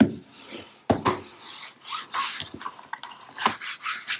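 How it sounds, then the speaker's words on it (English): A tool rubs and burnishes paper on a mini album base in short, dry rasping strokes, close and fairly quiet, with brief pauses between passes. "you should be able to burnish out any wrinkles"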